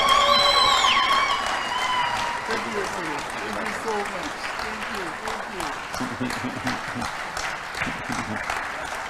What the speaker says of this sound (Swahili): Let's give a warm clap for that.